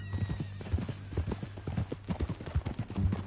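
Horse hooves clip-clop in a steady walking rhythm in Red Dead Redemption 2, close and fairly loud, with a horse giving a brief whinny and a low ambient hum beneath the plodding steps.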